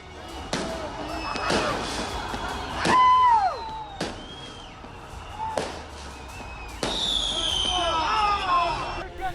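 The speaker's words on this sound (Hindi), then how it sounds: "लोगों ने सड़कों पर उतरकर आतिशबाजी की।" Repeated sharp fireworks bangs and crackles ring out one after another at a street celebration in Gaza, with whistling bursts and a crowd murmuring in the background.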